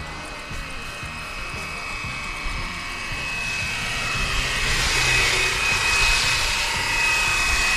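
Fly Wing BO 105 RC helicopter flying fast outdoors in sport mode, a whining rotor and motor buzz that swells louder as it passes closer toward the end.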